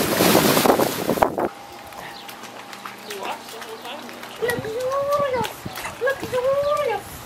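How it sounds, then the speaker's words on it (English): A loud burst of splashing water from a cannonball jump into a pool at the start, then quieter watery ambience with voices chattering and calling out. "I'm about to cannonball!"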